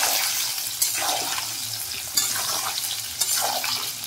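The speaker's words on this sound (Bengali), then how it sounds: "উল্টে পাল্টে বেশ বাদামি করে ভেজে নেব" Mango pieces cook in a pan on full gas for a Bengali-style mango pickle, giving a steady hiss and sizzle broken by a few sharper scraping stirs.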